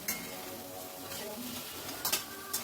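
Beaten egg in a pan over a medium-high flame, stirred constantly, giving a faint low sizzle with a few light utensil scrapes and clinks near the end.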